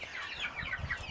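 Hens and young chicks cluck and peep quietly in a poultry yard, a few soft high chirps over low clucking, fairly faint and close.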